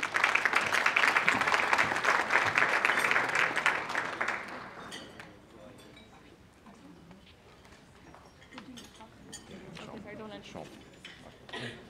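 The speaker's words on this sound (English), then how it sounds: "So let's give a big round of applause for Brother Yasser." Loud banquet audience applause at a 2013 CAIR-Arizona dinner, a dense wash of clapping for the first four seconds before fading into quieter room murmur and scattered noise.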